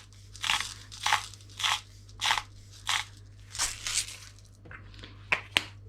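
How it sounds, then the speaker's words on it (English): Black pepper and pink Himalayan salt cracked in a grinder, a series of about nine crunchy grinding bursts in a steady rhythm, close and fairly loud, with no talking. "Some cracking of the pink Himalayan salt."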